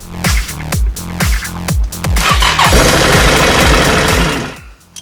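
A Can-Am Outlander 850 XMR ATV engine cranks with several sputtering turns, then fires and settles into a loud, close, steady idle that fades near the end.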